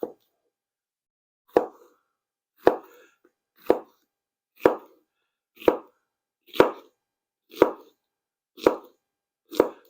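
Jalapeño peppers are sliced into quarter-inch rounds with a knife on a cutting board, about ten crisp, evenly spaced chops landing roughly once a second, close and clear with silence between strokes.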